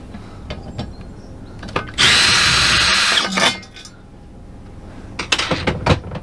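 A power drill backs a bolt out of a Coleman rooftop air conditioner on a Class A motorhome: one loud, steady whirring burst of about a second and a half, surrounded by lighter clicks and handling knocks.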